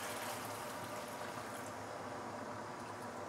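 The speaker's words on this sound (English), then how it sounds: "All you need to do is just to add some water." Water is poured into a pan of braised fish, a soft, continuous watery rush and hiss that stays fairly quiet and even throughout.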